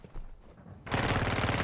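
Video game gunfire starts with a few quieter shots, then a sudden dense, loud burst of rapid automatic fire that runs on continuously to the end.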